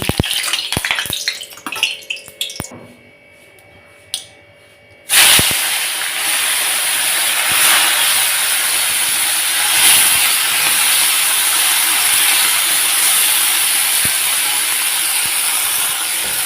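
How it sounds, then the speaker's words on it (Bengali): Loud, steady hissing sizzle of small puti fish frying crisp in hot oil in a wok, starting abruptly after a few seconds of quieter clatter and continuing with crackles. "এই যে ছোটো ছোটো পুঁটি মাছগুলো আমি সুন্দর করে মচমচা করে ভেজে নেব"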